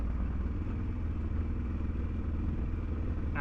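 Motorcycle ridden fast over a rough road on a long touring trip, a steady loud engine drone with dense low rumble and clattering vibration throughout, no pauses.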